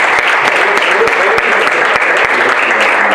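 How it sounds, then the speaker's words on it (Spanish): A crowd at a sports-week round-table event on mental health breaks into loud, sustained applause, a dense continuous clapping that fills the whole moment. "Y un aplauso muy fuerte para"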